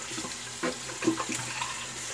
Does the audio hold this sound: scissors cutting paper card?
no